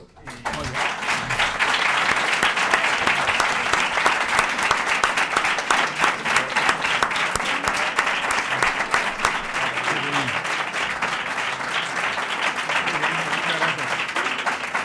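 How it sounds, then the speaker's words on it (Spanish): Sustained audience applause fills the room after a conversation event featuring a writer, steady dense clapping from many hands at an even volume, with faint voices mixed beneath. "O sea que sencillamente un aplauso"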